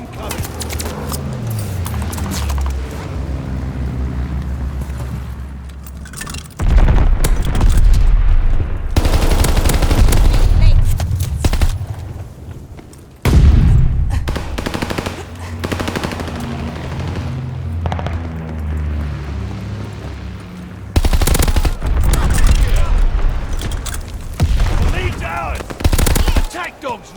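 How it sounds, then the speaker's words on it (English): Loud, dense gunfire and heavy explosive booms from a bombing run in the video game Call of Duty: Vanguard, on the Gavutu map in team deathmatch, with sustained bursts and in-game voice callouts over the battle. "Bombers ready for orders. Allies call the bombing run. Incoming."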